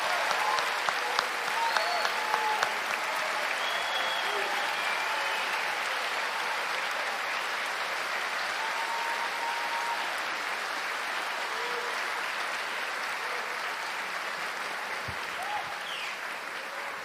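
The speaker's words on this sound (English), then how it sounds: "please join me in a round of applause for the Voorhees class of 2019" Large audience applauding at the Voorhees High School class of 2019 graduation ceremony, a dense, steady wash of clapping that holds evenly for the full stretch, heard from within a big hall.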